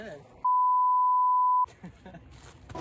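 A single steady high-pitched censor beep lasting about a second, loud and pure, cutting sharply into otherwise quiet talk.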